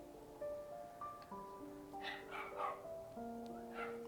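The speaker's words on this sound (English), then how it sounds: "Those are the neighbor's dogs. They like to bark all day." Several neighboring dogs bark in short intermittent bursts at a moderate distance, under steady background tones.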